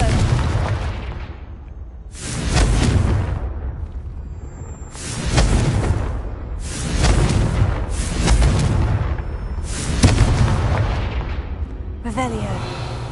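Repeated Confringo spell explosions in a PS4 Harry Potter game, five or six loud bursting booms spaced a second or two apart, each with a sharp onset and rumbling tail, with a voice speaking between them.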